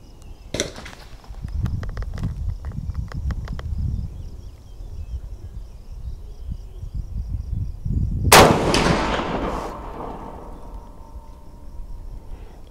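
A .444 caliber deer rifle with a new scope fires a single sharp, loud shot outdoors, followed by a decaying echo, after some earlier metallic clicks from handling.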